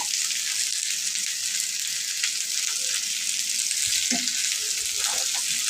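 Something fries lightly in a pan with a steady, fairly soft hiss, and a few faint clinks and low murmurs come through near the end.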